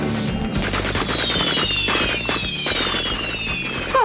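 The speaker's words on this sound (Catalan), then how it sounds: "Focs artificials." Fireworks in a cartoon scene, a dense run of crackling bangs and rising whistles over music, loud and continuous throughout.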